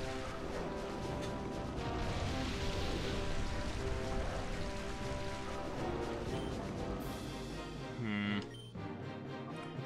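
Steady, dense rain from the Rain Dance move in the Pokemon Colosseum video game pours throughout as a continuous hiss with a few heavier splashes, heard alone at moderate volume.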